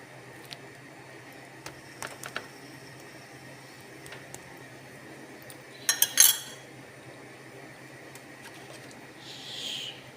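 Metal fork mashing boiled eggs in a bowl for a sandwich, soft scattered scrapes and occasional light clinks against the dish, with a brief louder burst of rattling midway, fairly quiet and close.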